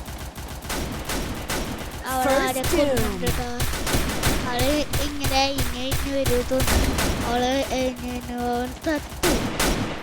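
Rapid bursts of automatic gunfire from the Free Fire battle royale game crackle throughout, layered under a player talking and tonal game sounds.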